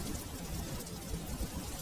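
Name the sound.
rain and storm outside (cartoon)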